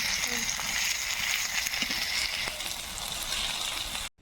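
Whole cumin, cumin paste, garlic paste and dry red chillies fry in a hot pan for meat curry, a steady close sizzle with faint crackles throughout that cuts off abruptly at the end.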